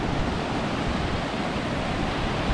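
A small waterfall in Iceland's Golden Circle rushes in a steady, dense roar of falling water heard alone, with no pauses.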